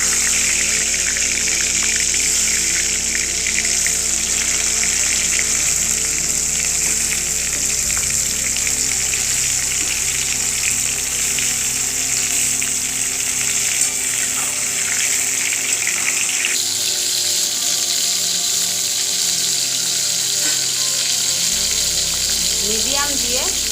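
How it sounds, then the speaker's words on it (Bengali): Pointed gourd (potol) frying in hot mustard oil in a pan, a loud steady sizzle and hiss that runs without a break throughout. "পটলগুলো ভাজার জন্য এখানে আমি সর্ষের তেল ব্যবহার করছি।"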